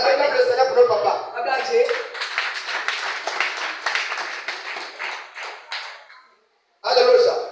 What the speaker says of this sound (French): On acclame le Seigneur pour notre papa.